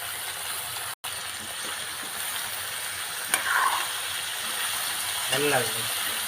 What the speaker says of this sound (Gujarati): હલાવી નાખીશું હાલો બટેટા નાખી દઈશું એની અંદર